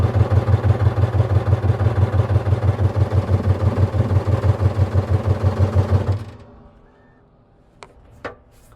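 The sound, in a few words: motorcycle engine idling after pulling the choke in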